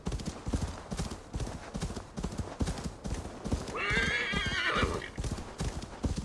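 A horse in the video game Assassin's Creed Valhalla gallops steadily with rhythmic hoofbeats throughout, briefly neighing partway through, the sounds loud and close.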